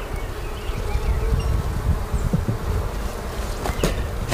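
Honey bees swarm around hive frames in an active hive, a dense, steady, close buzzing drone that fills the whole stretch, with a few sharper passes of individual bees.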